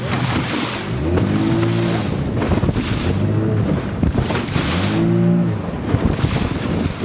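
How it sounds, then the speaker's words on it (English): A motorboat runs through big waves on Lake Michigan in March, with engine tones surging and dropping as it climbs each swell, steady loud wind and water rush throughout. "you got to throttle longer to get to the next wave"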